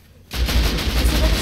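Heavy gunfire in a video game: a dense, continuous burst of rapid shots starts suddenly after a brief quiet moment and stays loud and close to the end.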